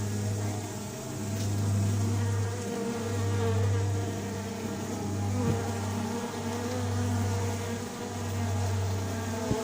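A honeybee buzzes close by a yellow hive box during the installation of an adopted queen, a steady low drone that swells and dips in level over a constant background hum.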